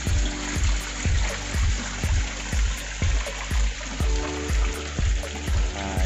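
An artificial waterfall pours steadily into an outdoor turtle pond, a continuous close splashing wash overlaid by a regular rhythmic pulsing thump, likely from a pump, repeating about twice per second with no talk.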